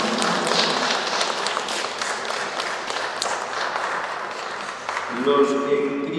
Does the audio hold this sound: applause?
yes